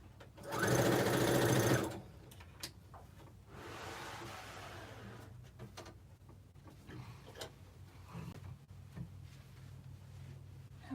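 Sewing machine stitching a seam on a 3D pinwheel quilt block, a loud steady whir lasting about a second, followed by quieter rustling of fabric and faint taps.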